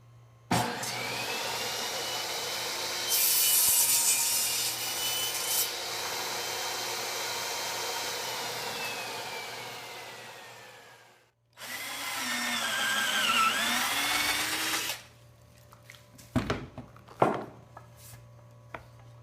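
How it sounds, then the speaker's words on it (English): A power saw cuts wood strips to length for a king size headboard: two long, loud whining cuts, each winding down, followed by a few sharp knocks and clatters. "So I'm going to go ahead and cut these to length"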